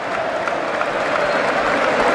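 Stadium crowd at the close of a Premier League match (final matchday, 37th round), applauding steadily as a dense, continuous wash of clapping with no gaps or peaks across the short stretch.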